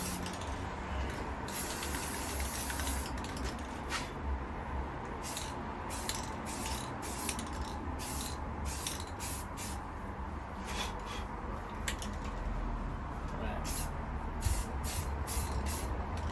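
Spray paint hisses steadily onto a Sagebrush Aero M5 rifle for a light base coat, a continuous close airy rush broken by repeated short bursts.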